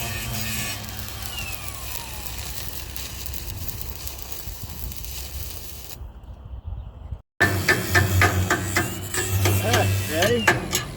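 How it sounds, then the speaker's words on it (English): Arc welding a new jack stand in a vertical-up pass produces a steady crackling, frying hiss close by, briefly cutting out before resuming louder with harsher buzzing. "Now I'm just going to weld this one up,"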